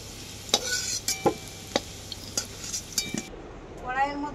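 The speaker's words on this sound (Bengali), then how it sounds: "আলু আর ওলকপিটাকে আমি খুব ভালো করে ভেজে নিয়েছি" Potatoes and kohlrabi frying in a wok with mustard oil: a steady sizzle under a series of sharp metallic scrapes and knocks from stirring, about a dozen irregular strokes, ending with softer bubbling.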